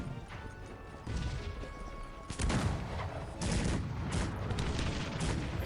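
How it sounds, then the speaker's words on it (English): Cannon fire at enemy units in a real-time strategy match, dense overlapping booms and crashing impacts in a continuous loud barrage with no talk. "He's shooting with cannons to the enemy units"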